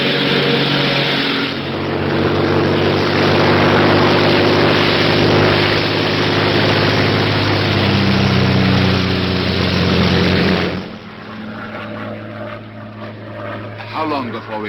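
A Royal Air Force propeller plane in flight in a 1942 film scene, its engine droning loud and steady for about eleven seconds before dropping sharply, with voices talking over it.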